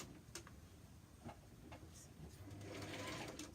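A home sewing machine stitching fabric for an easy top runs in a soft, steady whir with faint ticking, growing slightly louder toward the end.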